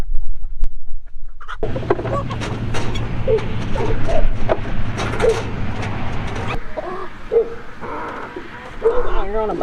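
Chickens cluck and squawk close by in short bursts while eggs are collected, mixed with rustling and a person talking over them.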